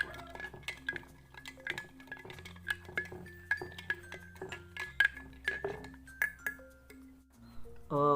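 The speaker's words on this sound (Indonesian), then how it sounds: "Kita masukkan dan aduk selama 30 detik." A spoon stirring a mixture inside a glass jar for a physics experiment, producing rapid repeated clinks and taps against the glass, fairly close and continuous, over a faint tonal hum.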